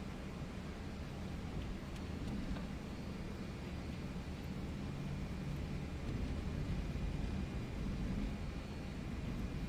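A320 thrust reversers roaring on landing in a flight simulator game, a steady, loud broadband rumble that holds evenly from start to finish.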